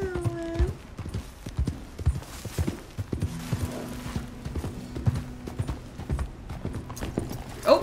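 Horse hooves clip-clop steadily on the ground in the Western game Red Dead Redemption 2, with a brief whinny, mixed with low game ambience and a line of spoken dialogue.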